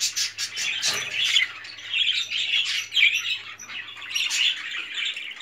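About fifteen budgerigars in a double breeding cage chirp and squawk continuously, a close, busy chatter of overlapping calls in fluctuating bursts, with a faint low hum underneath for most of the clip.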